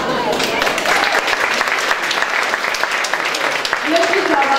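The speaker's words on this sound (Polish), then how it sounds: "Wielkie brawa." An audience at a women's gala and awards final claps in a loud, continuous wash of applause. Near the end a voice joins briefly over the clapping.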